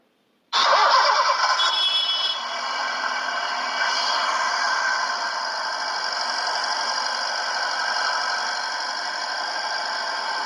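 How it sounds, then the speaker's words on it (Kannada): A 2012 Honda Jazz petrol car engine cranks and catches abruptly with a loud start, then settles into a steady, close idle with a faint whining squeal over the even hum for several seconds; no talking. "ಇಂಜಿನ್ನು ಕೂಡ ಸ್ಟಾರ್ಟ್ ಮಾಡಿ ತೋರಿಸ್ತೀನಿ."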